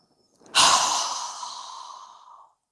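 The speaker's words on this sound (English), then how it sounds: "We're going to inhale through our nose, lifting our hands up above our head, and exhale through our mouth with a strong exhale." A single yoga breath: a soft nasal inhale followed by a strong, breathy mouth exhale that starts abruptly and fades over about two seconds, close and clear with no talking.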